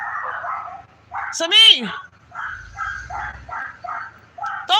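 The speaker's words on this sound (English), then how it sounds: "don't mess with the puppy or the Chihuahua, whatever it is" A Chihuahua puppy gives short, high yips and a whimpering bark at close range, interleaved with a person talking over it.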